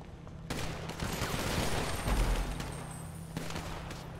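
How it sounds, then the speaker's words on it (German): Gunfire in the video game GTA 5, heard as a muffled burst of shots and rattling noise that swells, then holds at a fairly quiet, distant level. "ein Schuss."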